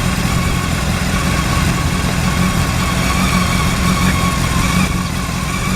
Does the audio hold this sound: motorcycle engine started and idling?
yes